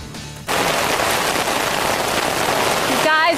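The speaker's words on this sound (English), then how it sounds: "it's pouring down, raining out here" Heavy rain pours down outdoors in Xenia, Greene County, making a dense, loud, steady hiss that starts abruptly and keeps going, then cuts to a quieter passage near the end.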